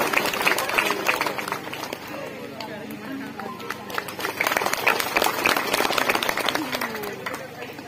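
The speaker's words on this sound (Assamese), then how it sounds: "সকলোৱে হাত চাপৰি বজাব।" An audience applauding at a felicitation ceremony, with a gamosa presented to honoured guests, scattered hand claps mixed with crowd murmur and a voice speaking over them, moderately loud and continuous.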